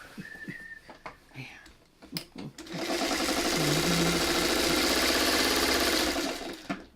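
After a few scattered taps and faint handling noises, a sewing machine starts up close by and runs loudly and steadily while stitching a quilt seam for a wonky circles block, then stops near the end.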